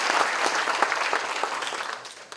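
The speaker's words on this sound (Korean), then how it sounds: "근속상을 수상하신 분들께 다시 한번 축하의 박수 부탁드립니다." An audience at a university founding anniversary ceremony applauds long-service award recipients, a steady wash of many hands clapping that tapers off toward the end.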